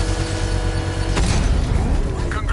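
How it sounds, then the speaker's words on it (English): In Batman: Arkham Knight, a bomb's exposed payload is set off in a controlled explosion: one sudden, loud boom cuts through a sustained droning, tonal background, followed by mechanical rumble. "I can use the power winch to trigger a controlled explosion"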